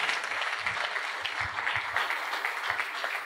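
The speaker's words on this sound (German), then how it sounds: "Nochmal ein kleines Applaus für unser tolles Team da hinten." An audience at a 2013 fashion show gives sustained, even applause, a dense clapping crowd heard fairly close throughout.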